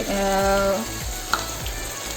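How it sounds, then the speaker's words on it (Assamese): Loud sizzling of ginger, garlic, black pepper, cumin and coriander hitting hot oil, with scraping stirs and a sharp clink from a utensil against the pan. "আদা, নহৰু, জালুক, জিৰা, ধনিয়া দি এইখিনি অলপ টাইম ভাজিম মই"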